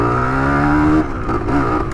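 A 1978 Kawasaki KE100 two-stroke motorcycle accelerating: a loud, buzzing engine climbs in pitch, briefly drops as a gear shifts, then keeps pulling, heard close and without talking.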